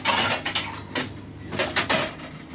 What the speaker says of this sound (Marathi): सर्व भांडी वगैरे काढते.